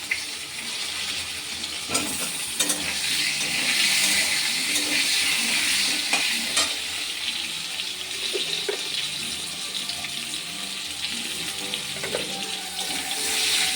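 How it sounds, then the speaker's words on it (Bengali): Sliced potatoes fry in hot oil in a home kitchen, a continuous close sizzle and crackle with a few sharper pops and no talking. "তো এবার আমি আলুগুলো ভেজে নেব"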